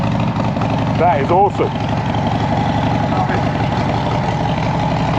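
A Harley-Davidson Fat Bob with a 131 Stage 4 engine idles steadily with a deep, continuous rumble close by, while a voice speaks briefly over it.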